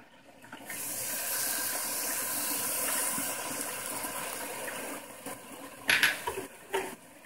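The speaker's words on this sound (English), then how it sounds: "I'm gonna add 1/4 cup of water." Water poured into palm sugar caramelizing in a pan, a steady splashing pour lasting several seconds that then turns into bubbling and a few sharp clinks of utensils, no talk.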